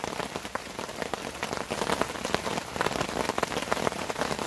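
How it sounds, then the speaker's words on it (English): Rain falling on a campsite at night, a dense, steady patter of drops hitting surfaces close by, continuous and fairly loud with no voices. "That's the rain back on."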